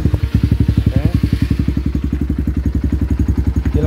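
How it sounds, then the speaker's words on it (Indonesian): A Kawasaki KLX dirt bike with an aftermarket remote alarm starts up and settles into a loud, close, rapid single-cylinder idle with a regular thumping pulse throughout. "Coba starter pakai remote sekali lagi."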